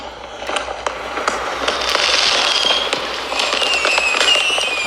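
A voice imitates fireworks, making a sustained hissing rush peppered with sharp crackling pops, close and fairly loud.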